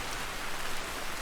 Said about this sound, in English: on day 3, I get to wake up in the rain.